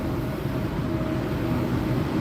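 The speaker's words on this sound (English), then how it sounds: "I'm going to let this train pass by." Train passing by at some distance, a steady low rumble with a faint tonal whine, continuous and fairly even throughout with no talk over it.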